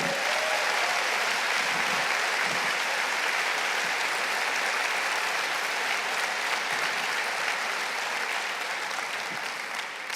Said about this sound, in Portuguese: Aplauda Jesus, Ele é digno.